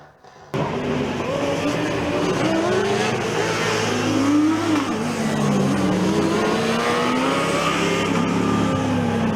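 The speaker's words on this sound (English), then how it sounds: "And I do think I hear an engine back here." Formula Student race car engine revving and shifting on an endurance circuit, loud and continuous with rising and falling pitch as the car accelerates through corners, recorded trackside without speech.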